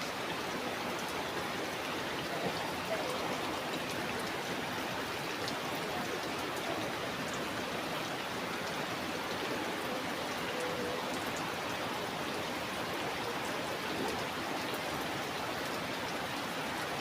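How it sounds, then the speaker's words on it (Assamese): Steady rain pours down in an even, unbroken hiss of drops on surfaces, moderately quiet and constant throughout with no voices. "এনেকৈ বৰষুণ দি থাকিলে যাব নোৱাৰি ন"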